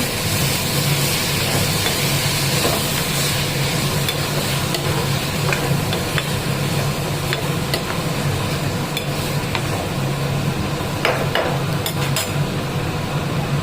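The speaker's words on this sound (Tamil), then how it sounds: "கோஸ் போட்டு 2 வதக்கு வதக்கிட்டு" Cabbage stir-frying in a pan, a continuous loud sizzle with occasional scraping and stirring clicks, steady throughout with no talking.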